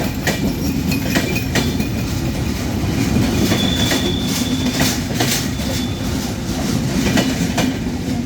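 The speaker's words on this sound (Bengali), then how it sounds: "এই যে ট্রেন চলে গেল।" A train passes at steady close range with continuous rumbling and clickety-clack wheel noise, plus faint wheel squeal now and then, loud and unbroken for the whole stretch.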